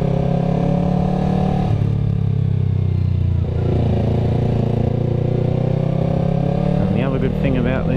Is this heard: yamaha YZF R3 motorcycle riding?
yes